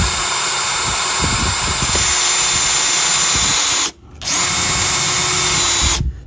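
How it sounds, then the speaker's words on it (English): A power drill bores a hole through metal for a homemade rotisserie spit, a loud steady high whine up close that cuts out briefly twice and restarts. "you just keep drilling with the drill centered in the bubble"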